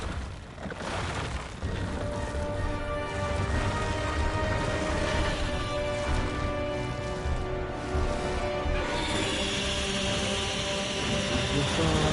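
A helicopter in the video game Resident Evil 6 keeps up a continuous loud rotor drone and mechanical rumble, blended with dense game effects and crashing debris throughout.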